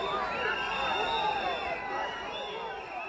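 Protesters shouting outside the parliament building in Montenegro as a visiting politician enters, a sustained crowd roar of many raised voices heard from some distance, steady and continuous.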